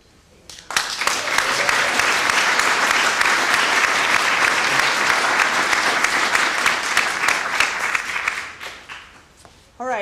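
Meeting audience bursts into sustained applause, a full, loud wash of clapping holding steady for several seconds before tapering off, with a voice starting to speak at the very end.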